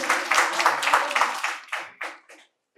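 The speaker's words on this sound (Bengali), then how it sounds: "জোরে হাততালি হয়ে যাক একবার কোয়েলের জন্য।" A small audience at a medical college quiz prize-giving claps for a winner, several nearby bursts of applause that thin out into a few scattered claps before stopping.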